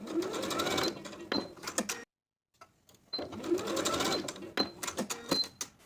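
A sewing machine bastes fabric straps onto a ruffle tier summer dress in two close, loud bursts of rapid chattering stitching with a short silent pause between them.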